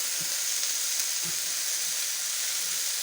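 Thin chicken pieces for homemade Turkish doner kebab sizzle in a pan with a steady, even hiss, broken by a few soft low bumps as they cook.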